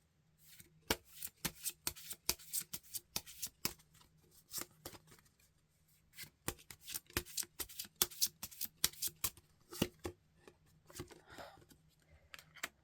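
Tarot cards are shuffled in a long sequence of crisp riffling snaps and taps, close and fairly quiet, coming in bursts with brief pauses between.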